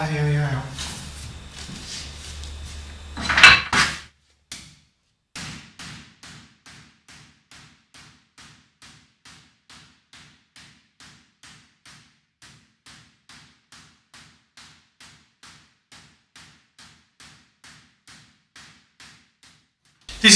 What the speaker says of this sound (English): This is a hollowing hammer. It's used for hollowing out, as the name implies, and it has a very high crown domed head to the hammer.